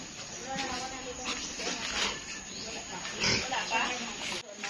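A pig on a farm grunts and oinks in low, rough snorts beneath a constant background of outdoor noise, while people talk nearby.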